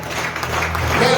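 A church congregation breaks into sustained applause at a worship service, a dense wash of clapping running steadily throughout, with some low sustained tone underneath.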